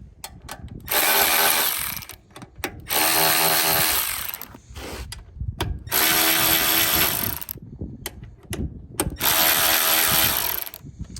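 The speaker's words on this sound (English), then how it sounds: "once your seat is removed, you have to undo these 4 bolts here. These are a 13 millimeter" Ratchet wrench loosening four 13 mm bolts beneath a removed motorcycle seat, heard as four bursts of fast, loud, close clicking separated by brief pauses, with no talking.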